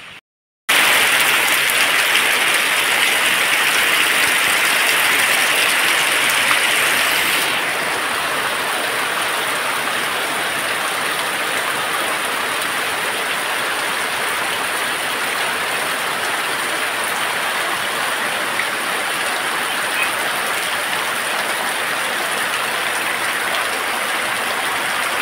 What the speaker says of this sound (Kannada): ಮಧ್ಯಾಹ್ನದಿಂದ ಮಳೆ ಬರ್ತುಂಟಲ್ಲ